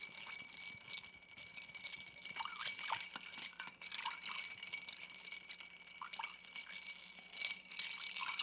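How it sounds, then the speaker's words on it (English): Ice cubes clinking and rattling against glass as a Negroni cocktail is stirred, a quiet, continuous light jingle with small irregular knocks and no talking. "little stir before we add a little ice. Stir in the chill."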